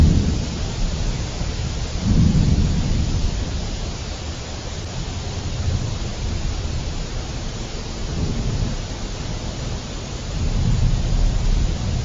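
Heavy rain pours steadily on a rainy day in a cartoon market scene, with deep rolling thunder swelling at intervals over the constant hiss. No one speaks.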